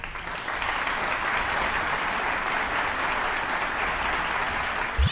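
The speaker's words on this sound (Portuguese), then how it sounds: "Aplausos para Marcela Rahal." Continuous applause from a concert audience follows a singer's operatic aria at a music competition heat, a steady even wash of many hands clapping at moderate distance, holding level for several seconds.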